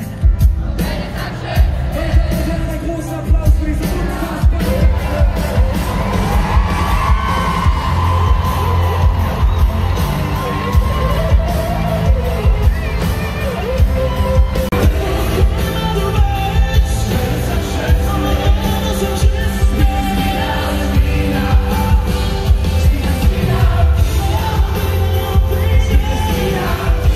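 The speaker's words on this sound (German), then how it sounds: "Applaus für diese unfassbare Musik" A large concert crowd at a tour show in Dortmund cheers, whoops and applauds, a dense, loud, sustained roar of clapping and yelling that rises and surges throughout.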